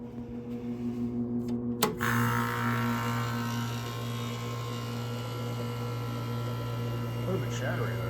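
A 1984 Carrier Sierra 17,900 BTU air conditioner running with a rattle, a steady mechanical hum and buzzing drone after a brief clunk as it starts, continuous and close.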